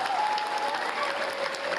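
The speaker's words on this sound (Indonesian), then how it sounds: "bagus, tepuk tangan" An audience at a talk show claps in a short, dense burst of applause, steady and fairly close, with a faint tone lingering underneath.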